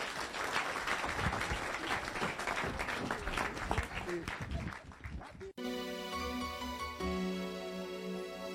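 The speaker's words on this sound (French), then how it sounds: "on applaudit très fort" Applause at a Caribbean Christmas song contest rolls on strongly for about five seconds under voices, then breaks off abruptly as instrumental music takes over.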